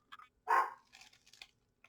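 A household dog gives one sharp bark nearby, followed by faint scattered yips and small noises, quiet room around it, no speech.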